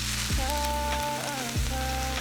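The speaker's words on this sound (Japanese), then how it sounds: "フライパンにオリーブオイル大さじ1を温めて、セロリ、人参、玉ねぎを強めの中火で炒めます。" Celery, carrot and onion sizzle steadily in a tablespoon of olive oil in a frying pan over medium-high heat, a close, continuous hiss while tonal kitchen sounds glide over it.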